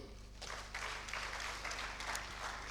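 Audience clapping at a formal ceremony, a soft, diffuse patter of many hands heard from a distance and continuing steadily for a few seconds without talk.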